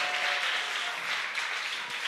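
A church congregation claps steadily and densely for a couple of seconds, a continuous wash of applause with no pauses.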